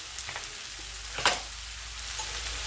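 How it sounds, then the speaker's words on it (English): Lamb stew ingredients fry in a pan with a soft, steady sizzle, faint and close, with one brief louder crackle partway through. "And then fry another 2 minutes"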